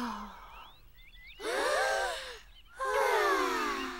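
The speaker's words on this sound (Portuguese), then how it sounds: "Respirem bem fundo este ar tão puro" Cartoon children breathe in deeply at a campsite, two long, airy group inhales with squeaky voiced edges following a short gasp, close and clear, with no talking over them.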